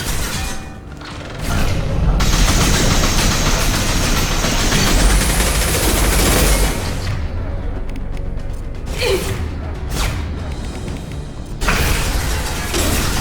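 Automated turret firing in the Mass Effect 2 video game, a loud, dense mechanical clatter with booming bursts that runs continuously through the scene, easing briefly before picking back up.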